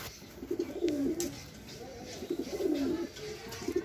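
Racing pigeons in a loft coo in deep, throaty bursts that recur every second or so, close and fairly loud against a quiet background.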